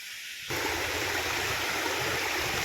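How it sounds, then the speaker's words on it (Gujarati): A river stream flowing near the Girnar hills, a steady loud rush of water that starts abruptly and continues without a break. "નદી, આ નદી ઓળંગીને આપણે ઓલી બાજુ જવાનું છે"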